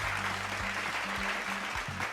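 Studio audience at a children's quiz show applauding to welcome a young contestant, a short burst of steady clapping with a low musical tone underneath.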